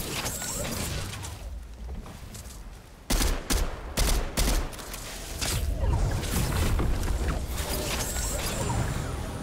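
Rapid bursts of drum gun fire in Fortnite crackle through a noisy game mix, a sharp cluster of shots in the middle followed by sustained rumbling action, fairly loud and without talk.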